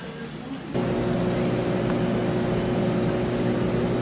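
A free Craftsman snowblower with a 9 horsepower engine and 29 inch width fires up on electric start after a brief quiet moment, then settles into a loud, steady, close-up engine drone that runs to the end.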